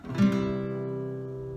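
A single chord strummed on a nylon-string guitar, a soft brushed attack ringing out warmly and sustaining as it slowly fades.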